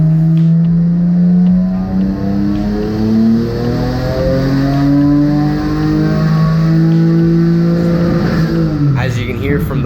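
A high-horsepower car making over 700 wheel horsepower revs hard during a pull, its loud engine note climbing steadily for most of the stretch before dropping off abruptly near the end.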